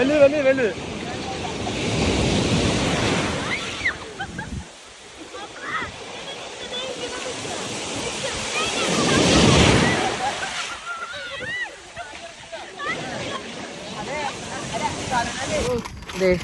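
Steady wind and breaking waves at Hamriya beach in the UAE, a broad rushing roar that swells around the start and again midway, with wind buffeting the microphone and voices faintly beneath.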